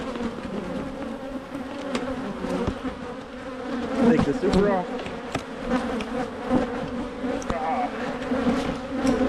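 Honey bees buzz in a thick, continuous drone at an opened hive during early spring colony work, close and loud, with a person speaking briefly over the swarm.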